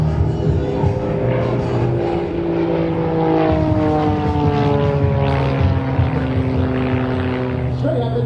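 Pitts S2 aerobatic airplane at an air show: propeller engine droning with pitch shifting up and down as it maneuvers overhead, loud and continuous, with a commentator's voice faintly mixed in.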